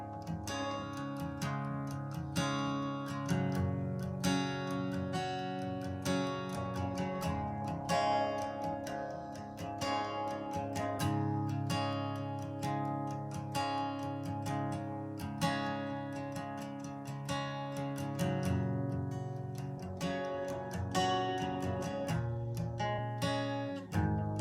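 Acoustic guitar strumming the verse chords of a song, steady rhythmic strokes with ringing chords played alone, close and moderately loud throughout.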